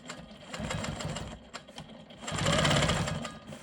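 A Quilt Maker Pro 20 quilting machine stitches a straight line with a rapid, steady mechanical chatter. It sits close and moderately loud, with the pace picking up toward the end.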